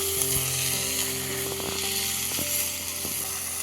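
Chopped mixed green leaves hitting hot oil with browned garlic cloves and chillies, a loud, dense, close sizzle that continues steadily without speech.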